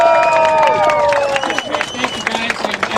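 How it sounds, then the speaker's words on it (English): Applause and cheering from an outdoor rally crowd at a Las Vegas March Against Monsanto, loud and sustained with dense clapping, whoops and crowd voices mixed with music-like tonal sounds. "Let's give a round of applause for Rick."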